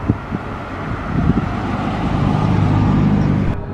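A Jaguar Series 3 E-Type pulls away at a track-side supercar pageant at Oulton Park, its engine rumbling and swelling in volume as it drives off, with wind buffeting the microphone.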